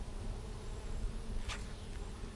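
Honey bees buzz faintly around an open hive frame on a sunny day, a soft continuous hum with one bee passing close by briefly in the middle.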